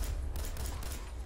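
Gunfire in the video game Fallout 4 comes as a brief, dense, steady burst of rapid shots, loud and close, with no voices heard.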